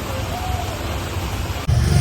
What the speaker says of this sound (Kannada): ಫುಲ್ ಭಯಂಕರ ಮಳೆ ಮಾತ್ರ ನೋಡಿ ಏನು ಕಾಣಿಸ್ತಾ ಇಲ್ಲ